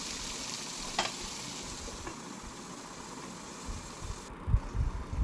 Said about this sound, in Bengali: স্লাইস করা পেঁপে টুকরোগুলো কেটে আরেকটু ভাজতে থাকলাম